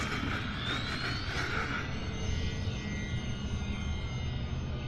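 An E-flite RV-7 electric RC model plane takes off at dusk, its motor giving a steady whine with a rising tone over a broad rushing background. The sound is fairly faint and continuous and has no voices.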